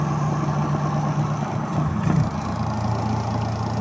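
A repaired spin dryer motor runs steadily with a low hum and a faint rattle, close and continuous with a brief louder surge midway.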